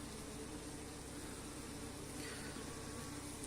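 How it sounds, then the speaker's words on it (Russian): Honeybees fan their wings at a hive entrance in an apiary, giving a steady, dense buzzing drone that stays even and fairly faint across the whole stretch, with no voices. "Вот видно, стоит пчелка, вентилирует гнездо, потому что расплоду нужен кислород."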